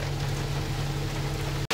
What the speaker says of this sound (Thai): โอ้ฝนตกแรงมากครับ